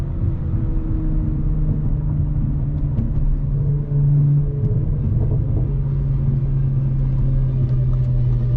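Deep, steady engine rumble from an Audi B9 S4 on a launch control run, close and loud, holding a low drone for several seconds without any talking.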